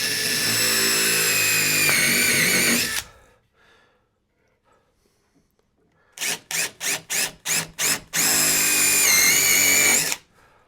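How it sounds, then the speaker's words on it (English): Power drill boring into walnut hardwood, with a loud, high whining spin that strains and drops for about three seconds, a pause, then a rapid burst of short trigger pulses and another sustained whine, all close up. "You gotta love drilling hardwood."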